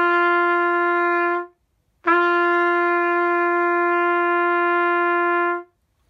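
Two sustained trumpet notes at the same pitch, each starting with a crisp breathy attack, separated by a short pause, clear and close.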